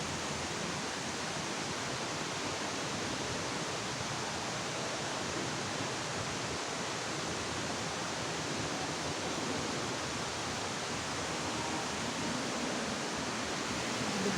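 Hinulugang Taktak waterfall in Antipolo gives a steady, even rush of falling water, soft and somewhat distant, unbroken for the whole stretch with no voices.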